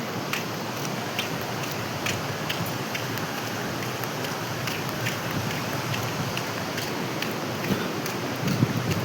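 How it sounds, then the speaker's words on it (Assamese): Steady rain falls outdoors on a mountain route, a constant close hiss with scattered drop ticks and no talk. "তো আজি বৰষুণো দি আছে"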